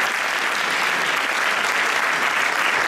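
A theatre audience applauds the jury at a Miss France regional evening, a dense, even wash of clapping that holds steady and loud throughout.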